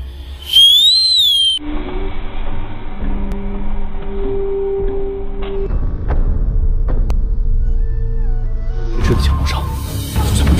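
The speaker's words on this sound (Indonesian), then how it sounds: "ia pun meniup peluit tanda untuk mundur" A whistle blown as a signal to retreat in a movie battle scene, a bright warbling tone early on, followed by rumbling and clattering ambience.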